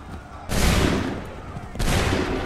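Musket volleys crack out in Assassin's Creed 3, two loud massed gunfire blasts about a second apart, each with a rolling decay.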